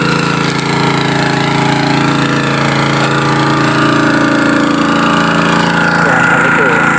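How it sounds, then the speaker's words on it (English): A water pump engine runs for watering kinchay plants, a loud, steady, close mechanical drone with a rapid knocking pulse that holds throughout, while a person talks over it. "Ayan po yung pump po."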